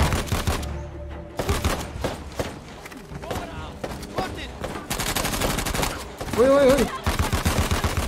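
Gunfire in the action game Uncharted: The Lost Legacy comes in loud bursts and single shots with gaps between them, while someone talks and makes a brief exclamation over the combat.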